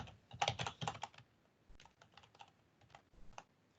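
Quick clicking keystrokes on a computer keyboard, a dense burst early on followed by sparser, irregular taps, close and fairly quiet with no voices.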